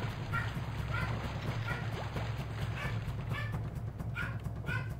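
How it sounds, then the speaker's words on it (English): A dog barks repeatedly in the background, short yips and barks spaced irregularly over a steady low hum, faint and somewhat distant. "so you probably are hearing a dog right now, and that's my roommate's dog"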